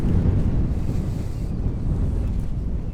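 Strong wind buffets the microphone outdoors, a constant loud low rumble with gusty swells and no voices, close and dominating.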